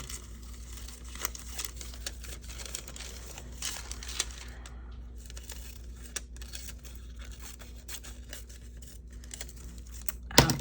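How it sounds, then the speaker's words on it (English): Scissors rough-cutting a paper collage figure out of a sheet, with faint close snips and light paper crinkling over a steady low hum and no talk. "we're going to kind of rough cut him out"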